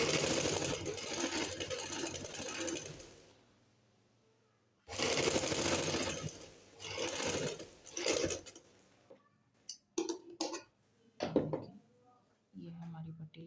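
A sewing machine stitches a suit patti in close, loud bursts, a long steady run followed by a pause and then shorter stop-start stretches of stitching.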